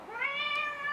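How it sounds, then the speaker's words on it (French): A house cat meows once, a single drawn-out, close and fairly loud cry with a rising then steady tone, heard alone. "c'est mon chat qui miaule parce qu'elle vient de rentrer du jardin et elle a faim."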